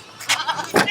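Goats on a farm bleat during feeding, two short nasal calls close by in quick succession with no talk over them.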